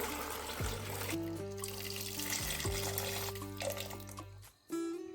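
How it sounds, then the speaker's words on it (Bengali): Water is poured from a tap into a pot of new potatoes, a steady rushing flow whose pitch rises as the pot fills, ending with a brief pause and a splash. "আলুটা দেওয়ার পরে আমি দিয়ে দিচ্ছি জল"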